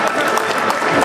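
A crowd at an MMA fighter's media training session claps in a short, dense burst of applause, loud and close.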